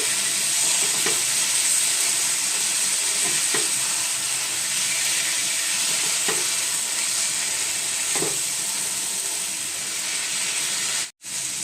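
Banana flower fries with spices in a pan for a prawn dish, a steady close sizzle and hiss with periodic scraping strokes as it is stirred, briefly interrupted near the end.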